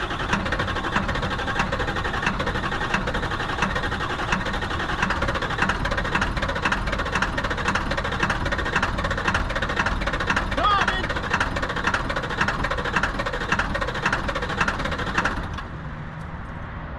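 Truck engine running after a restart following repeated stalling, a continuous close, rough pulsing rumble that holds steady for about fifteen seconds before dropping off abruptly to a quieter background.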